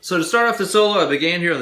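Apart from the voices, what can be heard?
None of the usual background noises is heard.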